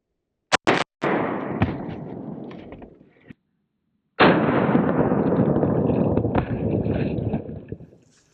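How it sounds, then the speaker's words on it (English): A Faxon 9mm pistol fires 115 grain rounds at a Battle Steel Level III steel armor plate. A few sharp, loud cracks come in quick succession, followed by a long, loud broadband rush. No one speaks. "We're going to hit it here with this Faxon 9mm pistol with some 115 grain ammunitions."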